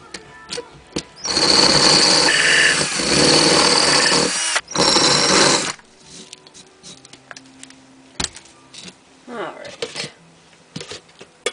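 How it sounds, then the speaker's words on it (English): A Dremel fitted with an engraving bit drills tunnels into firebrick. It runs as a loud, gritty whine for about four seconds, stops briefly, runs again, then gives way to scattered clicks and handling noises. "Don't drill all the way through, just as deep as you want your tunnels to be."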